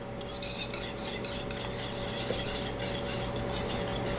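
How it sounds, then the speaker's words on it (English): A whisk scrapes steadily around a bowl of pecan pie filling with flour mixed in, a continuous close rasping swish with a faint steady hum beneath and no talking. "We just keep whisking that."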